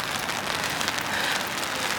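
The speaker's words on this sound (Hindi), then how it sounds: "काफ़ी बारिश और तेज़ हो गई है।" Heavy rain pours steadily on a street near a university campus in Huddersfield, a dense continuous hiss with close spattering drops throughout, loud and unbroken, with no voices.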